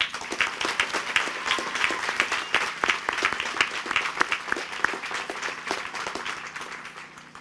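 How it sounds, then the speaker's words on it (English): An audience at the Hibriten High School graduation gives retiring school staff a full, loud round of applause, with dense, sharp hand claps rising into a sustained burst and then slowly thinning out. "Please join me in giving them a well-deserved round of applause."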